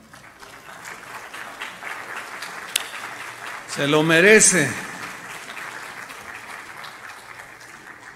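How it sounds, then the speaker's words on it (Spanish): A church congregation applauds the Lord during a Spanish-language sermon: steady crowd clapping with a brief louder swell of voices and cheering midway, and someone speaking briefly over it. "denle un aplauso al Señor"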